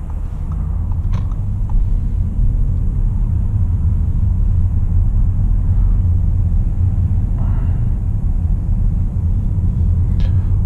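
Audi A8L pulling away slowly, a steady low rumble of engine and road noise inside the car, continuous and fairly loud with a few faint clicks and no talking.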